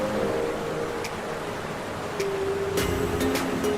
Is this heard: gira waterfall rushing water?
yes